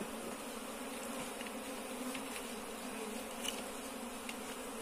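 Honey bee swarm buzzing steadily around an open hive at an apiary during dry-season feeding, a dense continuous hum close by with no talk.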